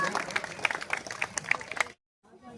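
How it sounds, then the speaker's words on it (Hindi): An audience at a poetry gathering in Nandurbar breaks into brisk, rapid clapping that carries on for about two seconds and then stops abruptly, followed by faint room sound. "आप जोरदार तालियां बजाएं"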